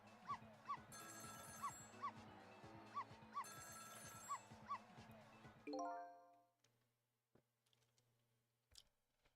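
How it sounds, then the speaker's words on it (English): Telephone ringing in the neighboring apartment in the game Ghost Trick, a repeated electronic trill in regular bursts over game music that cuts off suddenly, followed by near silence with faint clicks. "Sound of a telephone ringing. Coming from the apartment next door."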